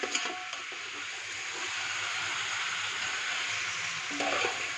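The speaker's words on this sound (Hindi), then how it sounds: "अब जो है ना चिकन को फ्राई करेंगे अच्छे से प्याज में" Chicken frying with onions in a hot pan gives a steady, dense sizzle throughout, with a few light stirring knocks and no talk.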